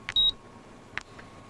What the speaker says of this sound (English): At 12:33, my terminal beeped for the 100th time.